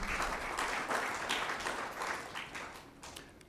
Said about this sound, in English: Round of applause again to Alma.